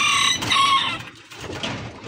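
Chickens cluck and a rooster calls briefly at a pigeon aviary, close and clear at first, then softer scattered clucks in a quiet farm setting.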